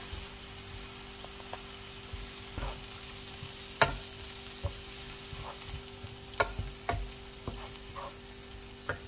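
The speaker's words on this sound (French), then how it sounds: "Mon brocoli est cuit, je vais mettre du beurre." Cooked broccoli sizzles in melting butter in a pan, a soft steady frying hiss under sharp scrapes and taps of a utensil stirring, close up with no voices.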